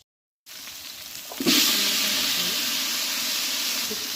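After a moment of silence, onions and dried red chillies hit hot oil, and the hiss jumps louder at about the midpoint, then holds as a dense, even sizzle.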